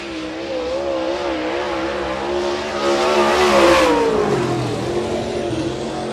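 Late model race car on a qualifying lap at a dirt speedway, its loud engine holding a high, steady roar that swells as it passes close, then drops in pitch as it moves away.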